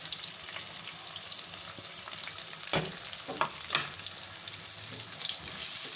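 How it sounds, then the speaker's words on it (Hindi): Onions shallow frying in a pan sizzle with a steady close crackle, broken by a few louder spatters and scrapes from stirring partway through. "सबसे पहले हम इसके अंदर प्याज डाल देते हैं। इसको थोड़ा सा शैलो फ्राई कर लेते हैं।"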